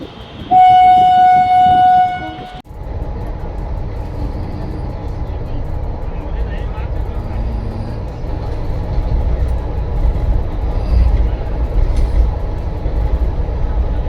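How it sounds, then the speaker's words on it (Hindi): A train pulling into a station in Varanasi, India: a loud horn blast opens, then a steady, heavy rumble of wheels and carriages rolls on close by. "फाइनली हमारी ट्रेन आ गई थी और हम जा रहे थे उसमें बैठने के लिए"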